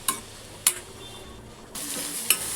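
Vegetables sautéed in a pan for white sauce pasta, with a soft steady sizzle broken by a few sharp clinks of a utensil against the pan.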